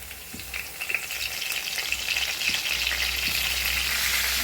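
Ground garam masala frying in heated oil for a tomato mutton curry, a steady close sizzle and crackle with a few light clicks, continuous with no talking.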